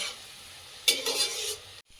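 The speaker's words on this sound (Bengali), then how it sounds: "কষিয়ে নেব তেল ছাড়া পর্যন্ত নাহলে টমেটো কাঁচা লঙ্কা আছে" Masala with tomato and green chilli fried in oil in a pan, a steady hiss that swells into one brief burst of stirring and louder sizzling before cutting off.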